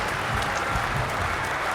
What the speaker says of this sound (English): And a very, very good round of applause from this wonderful crowd in here at Taunton this evening.